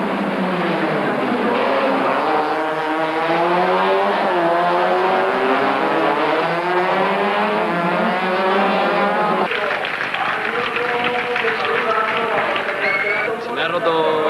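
A race car runs along the finish straight of the Alcañiz circuit, its engine note rising and shifting steadily under continuous commentary.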